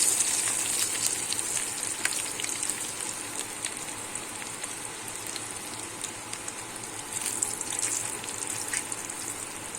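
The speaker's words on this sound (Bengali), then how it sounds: "রসুন কুচিটা আমি একটু লাল লাল করে ভেজে নেবো" Chopped garlic frying in a pan for an ilish fish-head and kochu shak dish, a continuous close crackling sizzle that holds steady throughout.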